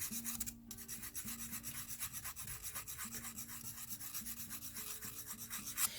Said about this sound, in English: So I'm actually going to come through using our file.